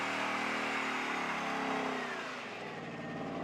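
A Ford Mustang's engine revs hard and continuously through a smoky burnout, a loud, close, rasping roar that holds steady and then eases slightly toward the end, with no talking.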